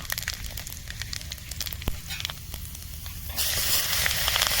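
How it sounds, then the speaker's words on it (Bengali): Chopped onion sizzles in oil left over from frying fish, a steady crackling fry under scattered clicks that turns into a louder, brighter hiss for the last second or so. "পেঁয়াজটা ভাজানো হয়ে গেছে।"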